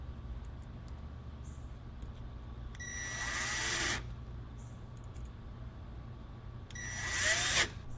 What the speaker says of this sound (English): So I have my drill set on 5 torque so I don't strip out the screws inside the door.